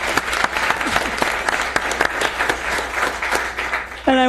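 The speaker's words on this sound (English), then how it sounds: "So another round of applause for them." An audience at a public meeting in Capitola, California applauds steadily, many hands clapping in a dense patter that ends abruptly as a voice begins.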